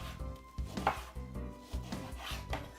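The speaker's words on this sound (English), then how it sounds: "And simple cut some slices." A knife slicing a halved, seeded lemon on a board, giving a steady run of about nine firm chops at a regular rhythm, close and clear, with no talk.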